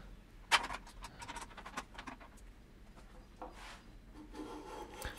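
Hand rasping and filing on a wooden guitar headstock, a seven-string build: scattered dry scraping strokes of varying length, fairly close and quiet, with no talk.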